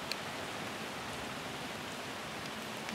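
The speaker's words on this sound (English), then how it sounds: "So the rain doesn't stop us, folks." Soft, even rain patters down at a campsite at Lincoln Pond State Park in the Adirondacks, a faint continuous hiss with no talking.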